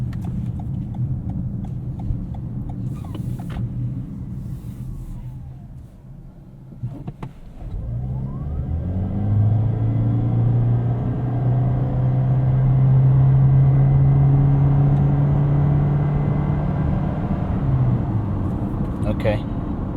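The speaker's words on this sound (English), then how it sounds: "Let's put it on power mode right now and try the 0 to 60 acceleration right here" A 2021 Toyota Corolla Hybrid in power mode accelerates hard from a standstill to 60, its engine drone rising and holding steady inside the cabin, with talk early on before the run begins.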